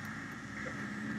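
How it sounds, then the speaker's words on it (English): A truck drives by outside, a low steady engine rumble heard at a distance and faintly through a room, with no talk over it. "Do you guys hear that truck going by?"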